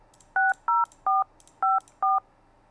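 Five short DTMF keypad tones dial a phone number in the MicroSIP softphone, crisp evenly spaced beeps of equal loudness with brief silent gaps between them and no talking.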